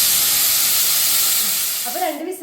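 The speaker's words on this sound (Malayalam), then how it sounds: "അപ്പൊ 2 വിസിലടിച്ചു. നമ്മൾ കുക്കർ ഓഫ് ചെയ്തിരിക്കുകയാണ്." A pressure cooker cooking tomato rice and eggs lets out steam in a loud, steady close hiss that fades away near the end, followed by faint background sounds.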